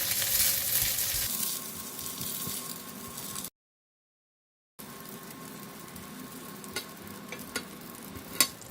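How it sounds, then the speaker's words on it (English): Salted fish fries in a hot pan, giving a dense, steady crackling sizzle with brief pops, close and fairly loud, broken once by a short silent gap before the frying resumes. "Okay, the fish is already cooked, so I'm going to remove it from the pan."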